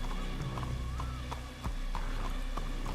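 Horse hooves clip-clop in a steady walking rhythm, close and clear, with a faint whinny-like tone in the background, set in a Wild West roleplay game.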